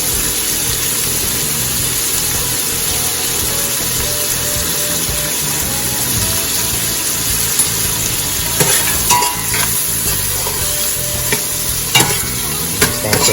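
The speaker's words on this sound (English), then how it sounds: "I'm gonna grab some onions that I chopped up. And I'm gonna toss some onions over in there." Chopped onions sizzle loudly in a hot pan as they are stirred, with a constant frying hiss and occasional scraping clicks from the utensil toward the end.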